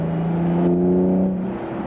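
Cabin-side drone of a Tanabe aftermarket exhaust on an Infiniti G37 cruising at about 45 mph and 3,000 rpm with the windows up: a steady, smooth low hum with a clear tone, heard alone.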